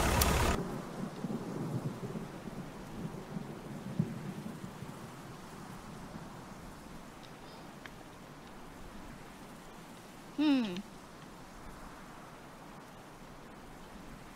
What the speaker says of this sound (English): A severe thunderstorm capable of producing 90 mile per hour with gusts and quarter sized hail